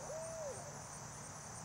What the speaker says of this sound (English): I don't know if you guys can hear that, but there's a bard owl in the back.